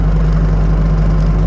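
A Bobcat T590 skid steer's engine runs loud and close as the machine drives forward, a constant low rumbling hum with no break.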